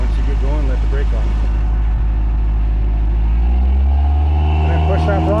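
A 1985 Toyota rock crawler's engine idles low and steady, then climbs in pitch as the vehicle pulls away slowly, with someone talking over the running motor.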